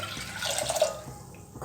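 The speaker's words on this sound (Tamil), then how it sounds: "இப்போது நம்ம நார்மல் வாட்டர் ஒரு கப் சேர்த்துக்கலாம்." A cup of plain water is poured into a pot with soaked black kavuni rice for sweet pongal, a short close splashing trickle that tapers off.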